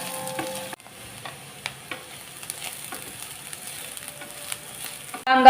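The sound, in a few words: sliced onion frying in a pan for misal pav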